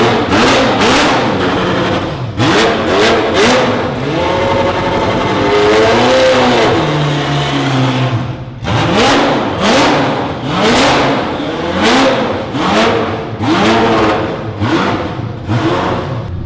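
A Ferrari F40 LM engine revs repeatedly in sharp, loud bursts, rising and falling in pitch, close and aggressive, with no talking.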